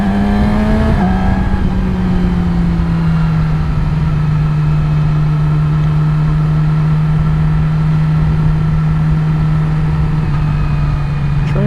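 A 2017 Yamaha R6 motorcycle pulls away after a hard clutch dump, its engine dropping into a loud, sustained, close drone that holds steady under heavy wind rush.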